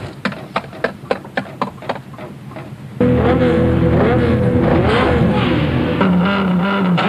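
A rally car, Sébastien Loeb's, launches off the stage start at the 2006 Cyprus Rally, a sudden loud engine roar and rising revs through the gears after a few rhythmic beeps.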